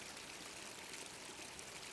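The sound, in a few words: water feature trickling in a garden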